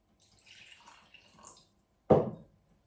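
Kangen water is poured into a cup holding a tea bag: soft trickling and faint dribbles, then one sharp, brief splash near the end before quiet.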